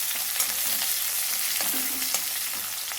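Small shallots with garlic and fenugreek sauté in oil for a kofta curry. A steady, dense sizzle stays close and continuous, with a few soft stirring knocks over it.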